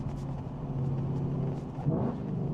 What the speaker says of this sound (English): Oh my goodness, those downshifts.